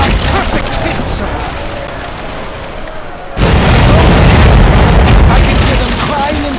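Port-side ship cannons firing in the naval battle game Commander: Conquest of the Americas, a loud deep broadside boom bursting in midway and rolling on as a heavy sustained roar, preceded by dense battle noise.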